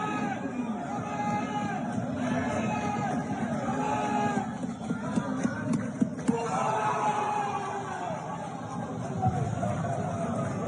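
A crowd at a curling match fills the air with continuous murmuring chatter and rising cheers as a rock slides slowly toward the house, with voices talking over the noise.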